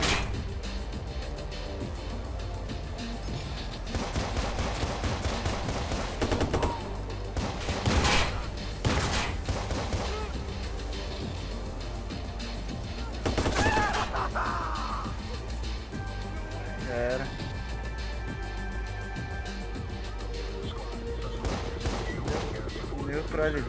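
Bursts of gunfire crack through a dense, noisy Watch Dogs game soundscape, several volleys scattered across the stretch amid rumbling effects and occasional voices.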